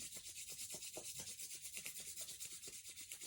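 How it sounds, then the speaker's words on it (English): Palms rubbed briskly together produce a close, steady back-and-forth friction swish with an even rhythm throughout, no voices. "So I want you just to rub your palms together. Really get a little bit of heat and friction."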